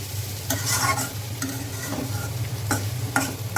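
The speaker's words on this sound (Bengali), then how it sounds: "করলা ভাজি হয়ে গিয়েছে এখন চুলাটা অফ করে দিব" Bitter gourd (karela) slices fry in a pan on a stove, a steady sizzle running throughout with several louder stirring scrapes spaced across it, close and fairly loud, with no talk.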